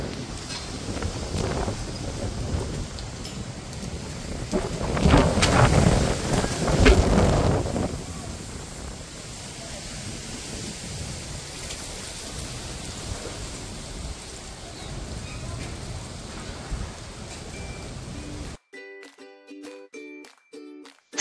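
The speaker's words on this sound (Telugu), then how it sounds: "వర్షం పడేలాగా ఉందన్నమాట, ఫుల్ గాలులు వస్తున్నాయి." Stormy outdoor weather with strong gusting wind and rain, a broadband roar that swells for a few seconds and then steadies, ending abruptly.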